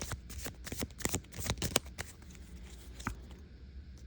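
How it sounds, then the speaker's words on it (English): A deck of tarot cards being shuffled close up, a rapid papery riffling and flicking that settles into quieter handling near the end. "Let's do a little shuffle."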